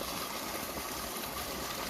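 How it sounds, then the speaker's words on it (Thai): Water flowing out through a drainage pipe on a farm, a continuous broadband rushing and gushing that stays steady and fairly close throughout. "น้ำกำลังระบายมาตรงนี้ครับ น้ำไหลนะ เป็นท่อเลย"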